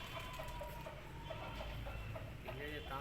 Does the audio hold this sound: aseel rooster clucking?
yes